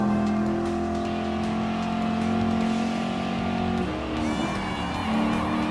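A race car engine in Gran Turismo Sport drones at a sustained high pitch while overtaking an Audi, dipping briefly as it shifts and then climbing again, loud and close throughout.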